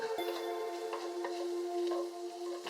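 Chopped onion sizzles in hot oil with black cumin seeds and asafoetida, a steady frying crackle with soft stirring scrapes and occasional ticks, close and alone.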